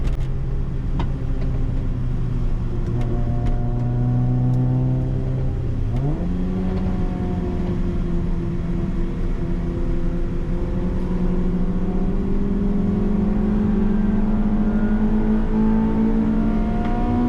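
A cheap Honda Civic racing at Silverstone drones steadily from inside the cabin, its engine note dipping and then climbing slowly in pitch as it accelerates through a long stretch.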